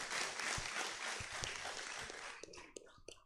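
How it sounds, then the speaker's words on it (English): An audience applauding at a live store event at a Decathlon sports shop in Kottayam, a dense burst of clapping that thins out toward scattered claps at the end, fairly quiet and distant. "A round of applause for Talib"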